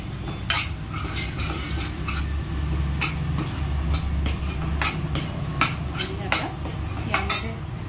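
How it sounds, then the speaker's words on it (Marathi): Chickpea masala for chole bhature being sautéed and stirred in a pan, with repeated clinking scrapes of a metal spoon against the pan over a low steady hum, close and loud, with no talk. "याला छान आता परतून घेऊयात।"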